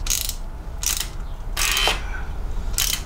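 A wrench ratcheting while bolts are loosened on a mountain bike bash guard, several short bursts of clicking separated by brief pauses, close and fairly loud.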